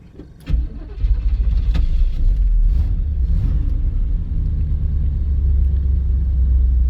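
A Mitsubishi L200 Triton pickup engine cranks briefly, catches and settles into a steady, loud, close idle rumble that runs to the end.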